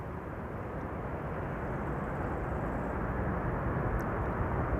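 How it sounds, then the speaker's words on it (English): A United Airlines Boeing 767 lands at Amsterdam Schiphol with thrust reversers deployed, giving a steady, broad, loud roar that holds for several seconds without letting up. "Reversers deployed."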